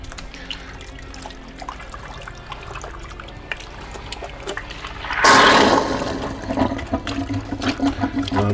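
Water drains from a rinse sink after washing motorcycle helmet pads: a quiet, trickling lead-in gives way to a sudden loud gurgling rush that keeps sloshing and dribbling to the end.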